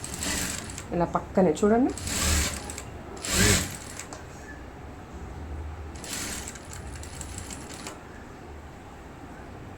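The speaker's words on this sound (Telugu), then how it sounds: "మీకు చూపించడానికి స్లోగా కుడుతున్నాను" A sewing machine runs slowly while stitching a blouse back, giving short bursts of rapid mechanical whirring and clicking between pauses, with someone speaking nearby.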